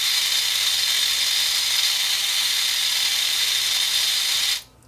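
A small battery-powered grinder motor whirs continuously in a bright, high-pitched whine, close and steady, then cuts off abruptly just before the end.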